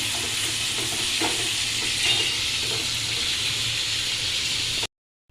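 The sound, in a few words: shrimp frying in pan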